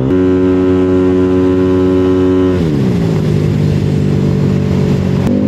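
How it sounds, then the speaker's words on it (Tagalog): A motorcycle engine idles loudly up close, then its pitch drops and roughens as the revs shift, a deep throbbing exhaust note throughout. "Ang dami rin nagkakagusto sa tunog ng motor na to eh."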